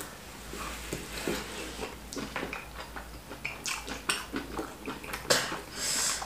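Cutlery clinks and scrapes against plates in quick, irregular bursts over a steady background hum, close by.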